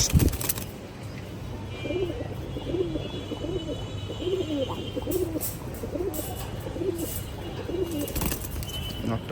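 Bagha khaki pigeons coo in a steady run of soft, low, repeating calls, about eight evenly spaced phrases close by, over a constant background hum with a few brief rustles and wing flutters.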